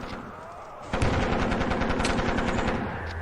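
A sudden burst of rapid machine gun fire starts about a second in and rattles on in quick repeated shots, loud and near, with a low rumble beneath suggesting heavy artillery in a tabletop horror role-play scene.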